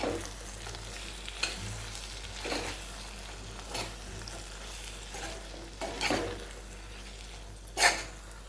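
Masala brinjal curry sizzles steadily in a pan while a spoon stirs it, with scraping strokes every second or so and a sharper clank near the end; no voices.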